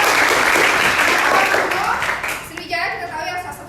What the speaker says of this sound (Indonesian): Jadi tepuk tangan untuk Carlo